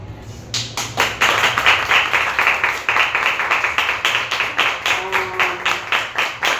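An audience at a live storytelling event applauds with dense, loud clapping and rhythmic pulses that carry on steadily after a quiet start.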